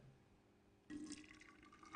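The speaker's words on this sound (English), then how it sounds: "Next, enough hot water to dissolve the sugar and coffee is added." Hot water pours into a cup holding coffee and sugar, a soft liquid fill that starts abruptly after a near-silent moment and carries on steadily, faint and close, with no talking.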